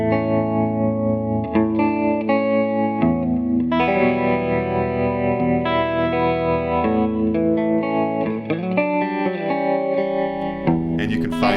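Electric guitar solo from a song, played note for note, with sustained bending lead notes over chords, soaked in chorus, distortion and reverb, loud and close with no talking.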